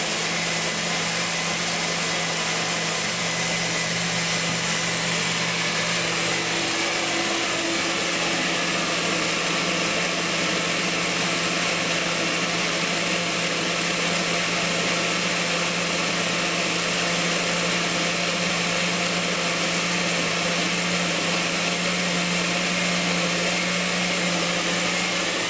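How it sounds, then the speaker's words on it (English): A blender whipping a ginger elixir runs continuously with a loud, steady whine and motor hum, its pitch rising slightly as it gains speed. "you'll hear the blender pick up speed"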